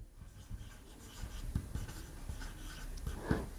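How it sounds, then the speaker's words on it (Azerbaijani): A pen writing on paper while working a fifth-grade maths problem: soft, close scratching strokes with small taps, quiet and steady with no talk over it. "Aha, yazıram."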